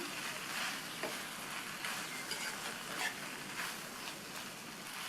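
Bell pepper and mint sizzle steadily in a hot pan while a utensil stirs with soft scraping strokes, fairly quiet and close.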